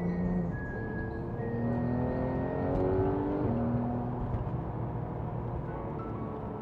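A Porsche 911 991 Gen 1 GT3 RS flat-six engine revs hard, its pitch climbing in repeated rising sweeps that stay loud and close for several seconds, with no one talking.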